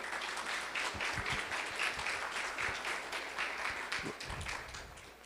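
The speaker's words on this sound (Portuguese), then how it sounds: "Uma salva de palmas, meu amigo" Audience applause for a speaker invited onstage at a forestry event in Bahia, a sustained patter of many clapping hands with a few sharper, louder claps standing out, fading slightly at the end.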